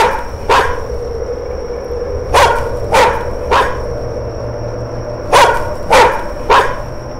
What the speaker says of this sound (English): Why are you barking, dude?